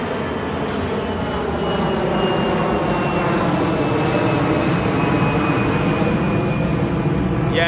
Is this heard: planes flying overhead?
yes